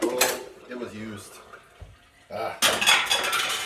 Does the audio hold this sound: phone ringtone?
no